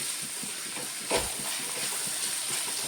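Three or four slit green chillies dropped into hot oil in a pan, sizzling steadily with a brief louder crackle burst as they hit the fat.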